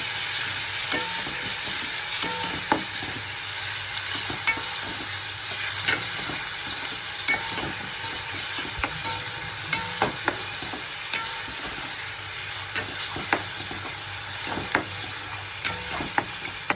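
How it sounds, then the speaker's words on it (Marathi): Finely chopped onion for a toor dal and spinach dish frying in a pan, with a steady sizzle and hiss throughout and repeated scraping clicks of a spoon stirring, close and even, with no talk. "आणि आता याच्यामध्ये बारीक केलेला कांदा पण छान लालसर घालायचा."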